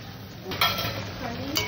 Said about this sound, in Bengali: এই পেঁয়াজটা ভাজবো, পেঁয়াজটাকে ভাজতে হবে